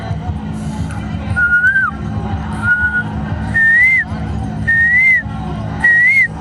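At the Prayagraj Mahakumbh 2025 gathering, a person imitates a koel's call with five short, rising whistled notes spaced about a second apart, clear and close over a low murmur of crowd noise.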